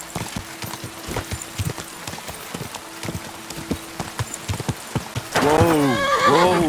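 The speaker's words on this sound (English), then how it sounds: "That looks like a bloody expensive horse." In Kingdom Come: Deliverance II, a horse's hooves clip-clop in an uneven run of sharp close steps, then the horse lets out a loud, wavering neigh at the end.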